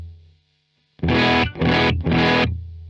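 An electric guitar plays through a Ratajczyk Cream Reverb amp with the reverb switched off, giving three dry, loud, distorted strummed chords in quick succession that ring and then cut off cleanly.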